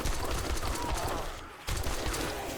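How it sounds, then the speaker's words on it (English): Pipe machine gun firing in the zombie survival game 7 Days to Die, a dense stream of rapid shots that stops briefly and then resumes, loud and continuous throughout. "let's break out the pipe machine gun."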